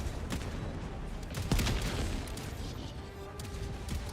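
Automated turret gunfire in the video game Helldivers 2, a dense battle mix of shots and booms with a louder burst midway, continuing steadily throughout.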